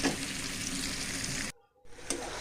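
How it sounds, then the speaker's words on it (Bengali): Vegetables sizzle in hot oil in a pan with a dense, steady hiss, close and moderately loud, broken by a brief silent gap before the frying resumes. "তো সুন্দর মতো ভাজিটা হোক"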